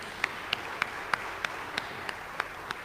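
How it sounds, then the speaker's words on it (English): A church congregation claps during a sermon: evenly spaced, sharp claps in a steady rhythm, about three per second, over a diffuse hall murmur, with no clear speech. "we'll applaud for Lacey."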